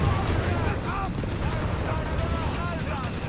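Panzergrenadier infantry open fire in Company of Heroes 3, a World War II strategy game: a steady crackle of rifle and gun shots with distant rumbling battle noise beneath, while a commentator talks over it.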